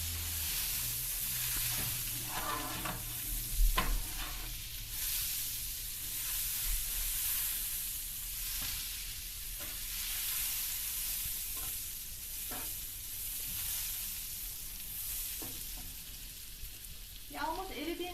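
Steady sizzling and spitting of beef entrecôte frying in butter in a hot pan, a broad crackling hiss with occasional pops and stirring clatter, nearby and continuous.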